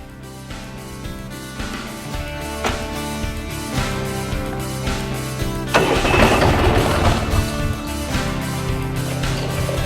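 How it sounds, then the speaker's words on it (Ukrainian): A tractor fitted with sprayer nozzles cranks and catches, its engine turning over with a few sharp knocks before firing up and settling into a loud, rough, rattling idle that grows fuller toward the end. "Залишилося завести трактор і подивитися, яка різниця."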